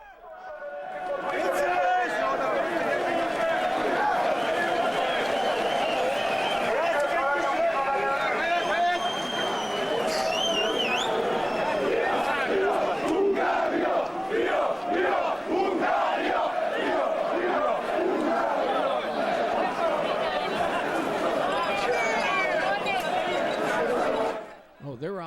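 A large crowd of fans marches behind a drummer boy ahead of a Serbia game, chanting and shouting loudly and continuously over a rhythmic drumbeat for the whole stretch.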